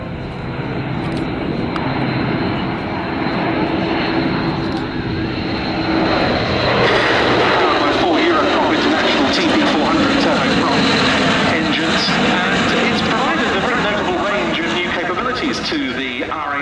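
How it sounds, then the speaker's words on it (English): An Airbus Atlas C1 military transport flies past at the Duxford summer air show, its loud turboprop engine drone rising and sweeping through the pass while a commentator talks over the PA. "Look to your left, and here comes the Airbus Atlas"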